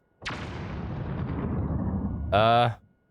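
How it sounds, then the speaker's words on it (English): A firework launched in Tears of the Kingdom, a sharp burst followed by a sustained roaring rumble that ends in a louder crackling blast, with a voice briefly overlapping. "why don't we just give you a little firework here?"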